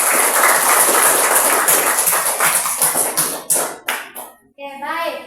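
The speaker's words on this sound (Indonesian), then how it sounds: "Tepuk tangan untuk kelompok 4" Students in a history classroom clap for a group, a dense burst of hand claps that thins into scattered, separate claps before a young voice speaks at the end.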